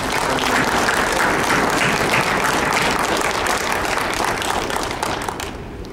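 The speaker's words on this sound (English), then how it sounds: "How about a round of applause for Congressman?" A town-hall audience applauds a congressman with full, loud clapping from many hands, steady at first and tapering slightly toward the end.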